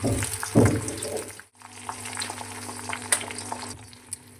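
Hibiscus leaves and flowers dropped into hot oil, a sudden bubbling burst followed by a steady close sizzle that continues without talk.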